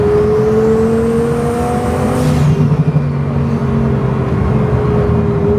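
A twin-turbo Lamborghini engine pulls hard with a steady rising drone, then a sharp airy hiss of a blow-off valve venting, close and loud.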